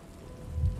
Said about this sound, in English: she's created a poison rain, right?